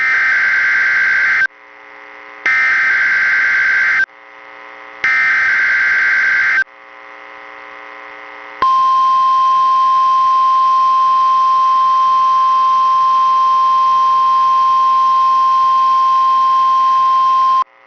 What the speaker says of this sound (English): The preceding signal was a test of the NOAA weather radio public warning system.